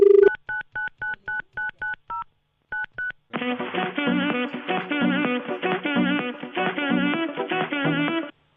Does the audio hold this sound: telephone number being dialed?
yes